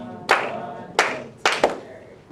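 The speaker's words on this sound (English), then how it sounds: "clap the rhythm and say toss and TTs" A music class claps a rhythm together, with four sharp, close group claps unevenly spaced, the last two coming in quick succession, over a quiet room.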